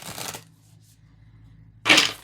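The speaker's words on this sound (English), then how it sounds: "So let me give it a quick shuffle." A deck of tarot cards gets a quick shuffle: two short bursts of riffling, one at the start and one near the end, with a quiet gap between.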